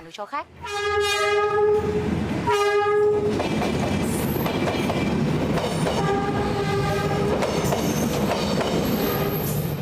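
A train on Vietnam's North-South Railway sounds a loud horn in repeated blasts, first two short ones and then a longer call, over steady rumbling wheels and clattering cars close by.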